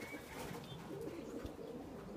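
Racing pigeons cooing in a loft, soft low coos repeating over a steady background of birds and room noise, no one speaking.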